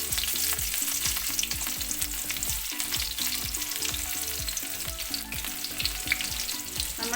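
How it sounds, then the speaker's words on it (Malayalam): Chopped shallots fry in hot oil with mustard seeds, giving a loud, steady sizzle broken by constant crackles and pops, heard up close with no talking. "കൊച്ചുള്ളി അരിഞ്ഞത് ഇട്ട് കൊടുക്കുകയാണ്."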